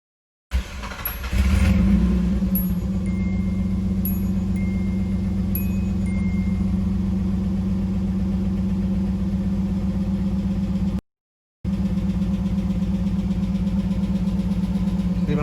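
A Nissan 300ZX Z31 cranks and fires up close by, then settles into a steady, even idle with a constant low hum and faint ticking, briefly cut out partway before the idle resumes.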